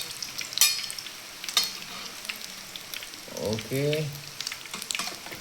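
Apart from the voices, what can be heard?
egg mixture poured into pan, frying and sizzling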